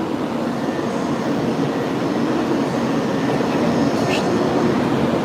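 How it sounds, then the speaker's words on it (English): A Shinkansen bullet train departs a platform at Hakata Station, giving a loud, steady broadband rush and rumble of rolling stock close by that persists without break. "Alright, so this train is on its way out"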